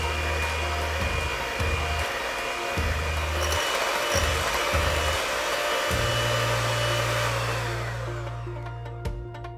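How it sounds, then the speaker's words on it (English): An electric hand mixer whirs steadily while beating banana muffin batter, a loud motor drone with pitch shifts as the beaters move through the bowl, running alone without talk. "And we'll mix it all together again"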